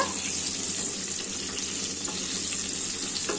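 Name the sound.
frying brinjal in oil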